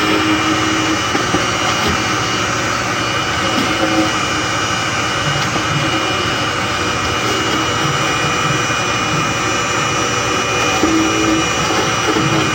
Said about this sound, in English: that is how you cut a Honda key on the Silca Swift Plus